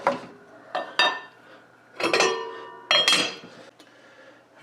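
A spoon stirs salt into a metal cooking pot of rice, producing several ringing clinks and scraping knocks against the pot, close and clear with quiet pauses between strokes.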